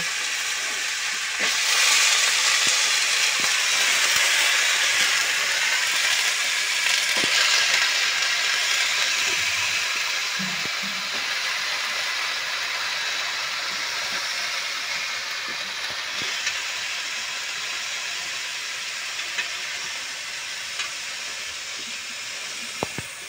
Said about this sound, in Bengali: এবার আলুটা আমি ছিকে কড়ার মধ্যে দিয়ে দেবো। বন্ধুরা খুব ফেগড়াচ্ছে, আলু জল আছে।